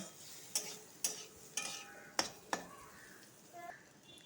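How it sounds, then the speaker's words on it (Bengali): Ash gourd peel frying with chopped onion in a pan, a soft sizzle with several sharp spatula scrapes and clinks spaced about half a second apart, fairly quiet and close. "ভালো করে চুচাটা ভেজে নিব"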